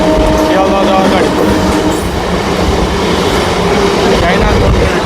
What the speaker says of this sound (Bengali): এখন দেখো উল্টো দিকে আসছে